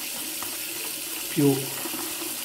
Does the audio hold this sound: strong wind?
no